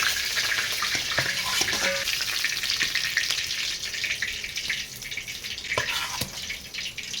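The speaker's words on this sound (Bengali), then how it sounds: "এই তেলের মধ্যে আমি বাকি মাছগুলোকেও ভেজে নেব" Pieces of silver carp fry in hot oil, a bright, close, continuous sizzle with occasional sharper pops and crackles, no voices.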